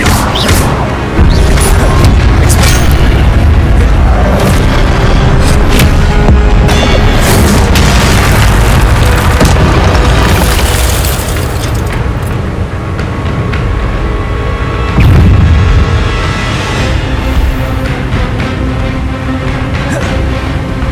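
Incendio fire spells blast again and again in the video game Hogwarts Legacy. Heavy booming bursts and crashing impacts roll on without pause, loud and close, with no voices over them.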